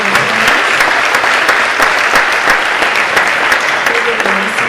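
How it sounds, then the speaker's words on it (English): Dense, steady applause from an audience for the 9-to-12-year-old contestants at a youth public speaking contest, loud and close, many hands clapping continuously with no talk over it. "Would you please give them a collective round of applause?"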